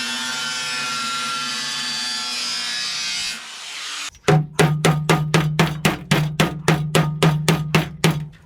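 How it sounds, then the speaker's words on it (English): An angle grinder scores sheet metal on a Bat Bike build with a steady, harsh whine for about three seconds, then stops and gives way to a quick run of a dozen or so loud, evenly spaced hammer blows. "just give it a bit of a score with the grinder to help it bend a bit"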